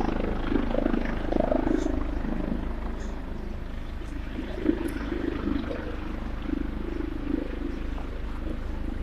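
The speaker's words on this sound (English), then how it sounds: "emergency helicopter just landed on top of the hospital" Emergency helicopter landing on a hospital roof in the city, a faint distant low rotor thrum that holds steady beneath the surrounding street ambience.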